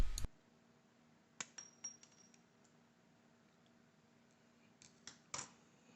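Faint, sharp clicks and snips of cutters going through wire while repairing a Harbor Freight tire inflator, a few isolated cuts spread over quiet background hum.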